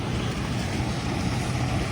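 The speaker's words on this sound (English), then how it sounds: "The waves are actually not as bad as they were, but maybe you can see them." Typhoon-driven waves on the shore in Da Nang, Vietnam, after Typhoon Vamco, heard as a steady, dense roar of surf and wind buffeting the microphone, continuous and fairly loud throughout with no talk.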